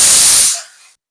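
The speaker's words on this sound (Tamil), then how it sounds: "சும்மா குக்கர் விசில் வரதை எடுக்கான்னு" A pressure cooker whistle releases a loud, steady blast of hissing steam lasting about half a second, then tapers off quickly into silence.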